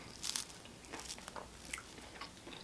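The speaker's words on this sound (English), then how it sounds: "It's got a nice crunch on the outside." Crunchy falafel being bitten and chewed at a Mediterranean restaurant: a few sharp, close crunches followed by quieter, irregular chewing with little else around.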